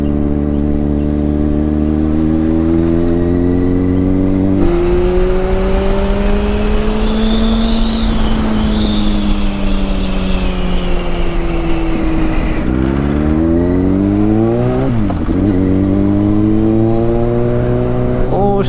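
A Yamaha FZ6 motorcycle engine revs up and down close by, loud and rising in pitch in repeated sweeps, with a brief sharp blip near the end; a voice can be heard faintly underneath.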